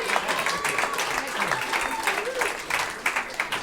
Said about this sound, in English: please give a warm welcome to James R. Zingelman, your headliner tonigh